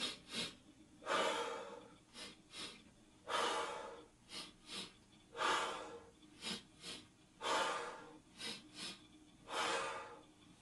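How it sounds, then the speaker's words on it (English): Slow, deep breaths in and out during a breathing exercise, a repeating pattern of long airy inhales and shorter exhales, close and clear with no talking. "2 breathe in, 1 breathe out"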